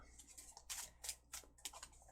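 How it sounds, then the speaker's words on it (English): Tarot cards being shuffled, a series of crisp riffling bursts at a quick, uneven rhythm, close and fairly quiet, with no voices. "as I shuffle these cards"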